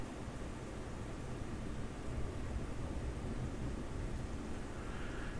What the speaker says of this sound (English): Most of the lightning I'm hearing is upper sky lightning.